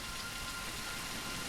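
Steady rain in the video game Stone Simulator, a dense, even wash of drops hissing close up, alone without voices or thunder.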